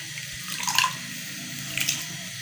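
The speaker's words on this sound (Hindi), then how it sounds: "इसमें हम 3 गिलास पानी के डालेंगे" Water poured into a pot of masoor lentils, a steady close splashing stream with two brighter surges, no talk over it.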